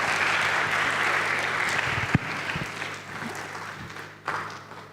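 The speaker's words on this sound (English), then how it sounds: "Please once again give him applause." Sustained applause from a conference audience after a presentation, a dense steady wash of many hands clapping that gradually thins toward the end, with a couple of louder isolated claps standing out.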